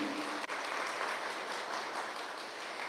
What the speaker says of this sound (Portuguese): Aplauda essa verdade, o céu estava ali.